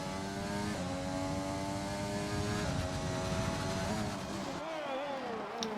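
Honda Formula 1 engine in a racing video game on the Singapore street circuit, a steady loud harmonic whine that climbs through upshifts and drops as the car leaves a hairpin, filling the whole stretch with no talk over it.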